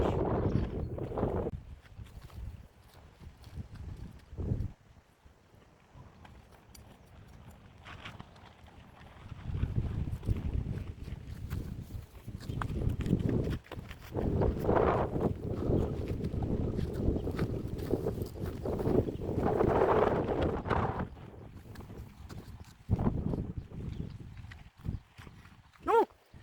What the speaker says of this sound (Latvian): Vienīgais, kas šodien var copēt traucēt, tas ir pretīgs un spēcīgs vējš